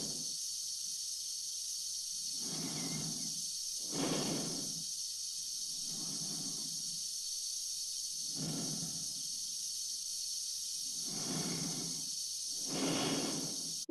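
Slow, heavy breathing inside a spacesuit helmet from the film 2001: A Space Odyssey, close and hollow, with alternating inhales and exhales repeating about every two to three seconds over a constant steady hiss.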